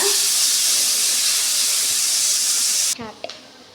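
Loud, steady broadband sizzle of chicken curry frying in a pan, holding for about three seconds and then cutting off abruptly, with a few faint clinks afterward.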